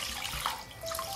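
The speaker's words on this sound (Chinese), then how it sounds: "再把这个抹布用水桶的清水洗一洗" A cleaning cloth used for waxing a car is rinsed in a bucket of clean water, giving a brief, soft sloshing and splashing, close and fairly quiet, with no talk.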